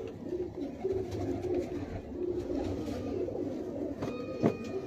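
Pigeons coo repeatedly in a close, soft rhythmic series, low throaty calls over background murmur, with a brief sharp noise near the end.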